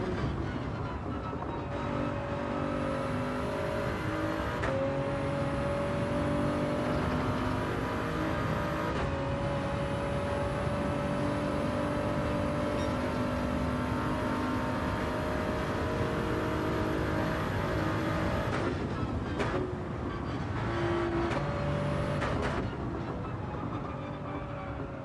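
Race cars in Gran Turismo 7, heard from the cockpit as a constant loud engine drone that holds steady with shifting gear tones, a slipstreaming pack run with no voices over it.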